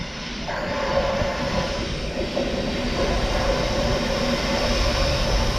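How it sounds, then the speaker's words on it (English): A Class 70 Freightliner freight train passing, a loud, continuous rumbling roar of wagons rolling on rails with a steady droning engine tone, close and sustained throughout. "But a Class 70 Freightliner."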